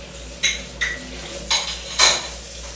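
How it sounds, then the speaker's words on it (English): Plates and cutlery clink and knock at a sink in four separate sharp clatters spaced across a few seconds, the last the loudest, over a quiet background with no talking. "yung jowa ko, naghuhugas siya ng plato"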